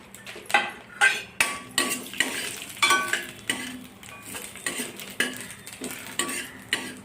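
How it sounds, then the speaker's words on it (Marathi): Grated coconut roasts in ghee in a pan while a utensil stirs and scrapes it, rhythmic metallic strokes about once a second over a faint sizzle, close and clear with no talking. "आता आपण खोबर भाजत आहोत"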